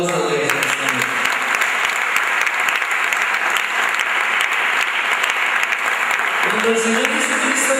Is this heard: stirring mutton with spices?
no